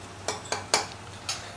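A utensil stirs chopped onions, chilli and curry leaves in a cooking pot for a vegetarian feast, giving four light scraping clinks at irregular intervals over a soft background hiss, with no talking.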